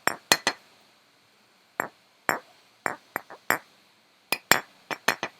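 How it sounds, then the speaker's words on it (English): Ceramic coffee mugs clink together in quick bright strikes, some single and some in pairs or triplets, with pauses between groups, close and clear against a quiet background hum. "Just gonna clink some cups together now."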